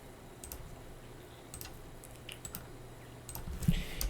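Keys tapped on a computer keyboard while entering a terminal command for a ROS2 Jazzy and Gazebo setup, with scattered soft clicks at an uneven pace, fairly faint, over a low steady room hum.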